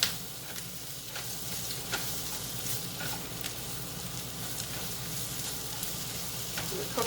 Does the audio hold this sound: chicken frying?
yes